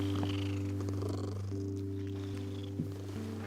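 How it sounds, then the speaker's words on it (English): A soft, friendly cat purrs in a cartoon, a low, steady, rhythmic rumble heard close and quiet, continuing alone for a few seconds. "She's purring."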